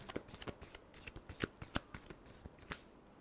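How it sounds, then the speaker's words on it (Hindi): A deck of tarot cards is shuffled close up in quick, crisp riffles, with a rapid rhythm of sharp flutters that ends after about three seconds. "Last shuffle."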